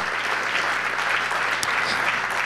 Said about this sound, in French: je vous demanderai une bonne main d'applaudissements